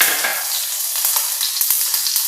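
Cumin, mustard seeds and green chillies fry in hot oil for a festival prasadam dish, giving a steady close sizzle with a few sharp spits and pops throughout.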